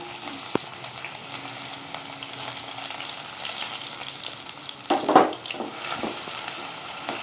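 Sliced onion fries in hot oil in a pan for eggplant sabji, giving a steady, close sizzle. A brief clatter of a utensil stirring comes near the end, and no one speaks.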